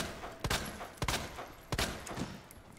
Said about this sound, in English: Shoot it so his leg falls off.